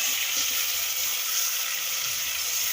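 Green chilies and ginger fry in a pan for bhuni moong dal, giving a close, steady, bright sizzle that continues without a break and with no talking.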